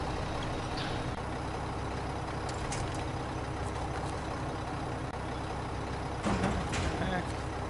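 Heavy truck engine at a construction site in the SnowRunner video game: a steady, loud, dense rumbling drone throughout, with a brief hiss-like burst near the end.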